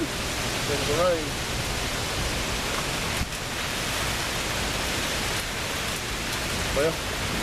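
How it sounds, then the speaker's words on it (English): Steady rain pours down in a broad, even hiss near an old 1968 Valiant. A couple of brief faint sounds rise over it, and no clear speech is heard. "There's the rain."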